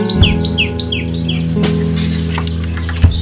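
Birds in a pigeon loft give repeated short chirps and cooing calls at close range, a run of quick notes early on followed by a steady low background, with no talking.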